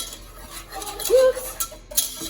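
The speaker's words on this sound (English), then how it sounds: "1 cup of granulated sugar, and you're gonna whisk that all together" A whisk stirs dry cornstarch and granulated sugar together in a saucepan, making a short run of soft scraping and light metallic taps, close and fairly quiet.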